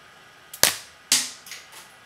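Marvel Thor Frost Giant toy figure firing its spring launcher: a few sharp, loud snapping shots at uneven intervals, the later ones fainter, against a quiet background.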